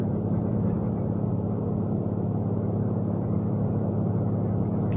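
Car engine pulling up a hill in fourth gear at a drag strip, a steady low droning rumble with constant road and wind noise, close and continuous throughout.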